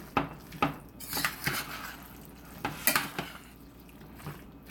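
A spoon mixes salsa and black olives in a dish, giving a string of close utensil clinks and scrapes against the dish in an uneven rhythm, with no voices.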